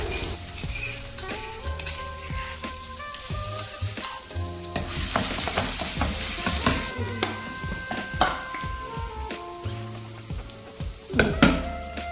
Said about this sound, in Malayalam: ഇതിലേക്ക് ചെറിയുള്ളിയും വെളുത്തുള്ളിയും ചതച്ചതും കറിവേപ്പിലയും ഒന്ന് മൂത്ത് വരട്ടെ